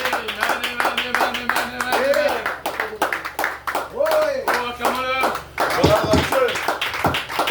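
A church congregation claps rhythmically through a lively worship moment, steady hand claps under a preacher's loud voice and the singing and shouting of the crowd.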